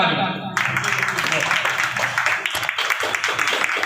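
Applause from a crowd at a political party gathering welcoming a guest, a busy clatter of hands that swells in abruptly after a quiet start, with a voice talking over part of it.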